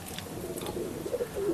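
Pigeons at a home loft give a few low, throaty coos, faint and close, rising slightly toward the end over quiet background noise.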